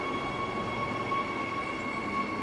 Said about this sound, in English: I'll just wait for this train to clear.